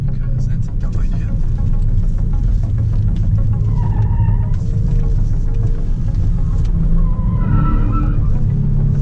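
A 2018 Kia Stinger GT accelerating hard from a launch-control start, a deep steady engine roar heard from inside the cabin, rising in pitch through the gears, with talk over it.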